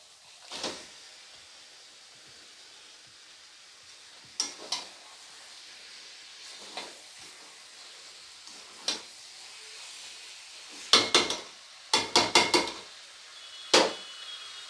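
Marinated chicken for a Bengali chicken masala fries over a low gas flame, a faint steady sizzle broken by scattered scrapes and clinks of stirring that cluster into quick bursts toward the end.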